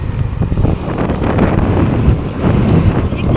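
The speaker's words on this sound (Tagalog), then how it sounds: "Sarap ng hangin." Wind buffeting the microphone outdoors on a street in Malabon, a loud, continuous rough rumble with gusty surges throughout.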